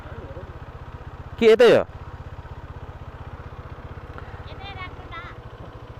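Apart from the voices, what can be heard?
motorcycle engine running on a hill road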